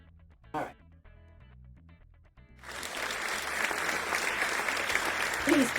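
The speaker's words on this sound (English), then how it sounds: "Please hold your applause." Applause from a small group in a kitchen breaks out after a brief moment of quiet talk and music, then swells into steady, moderately loud clapping that carries on to the end.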